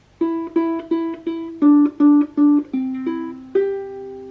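A plucked ukulele plays a simple melody, about a dozen bright notes in steady rhythm, close and clear with no talking.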